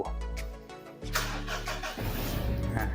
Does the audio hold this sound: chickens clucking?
no